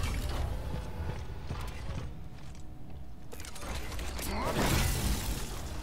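A broken gate fuse swapped out in The Callisto Protocol, with mechanical ratcheting clicks and clunks over a dense industrial hum, ending in a louder metallic shuffle.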